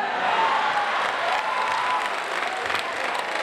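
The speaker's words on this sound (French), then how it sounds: "Merci d'applaudir pour la famille B." Applause for a family at a French-speaking church gathering, a steady wash of many hands clapping with some crowd noise, continuous and moderately loud throughout.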